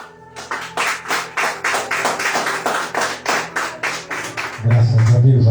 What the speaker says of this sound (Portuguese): E a igreja recebe o anjo da igreja com palmas bem alegre